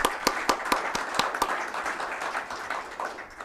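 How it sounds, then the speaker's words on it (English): A round of applause for the organizing committee at the opening session of an international angel investors' conference, with a few sharp distinct claps early on blending into softer, scattered clapping that gradually thins out. "I'd like also to ask a round of applause to the organizing committee."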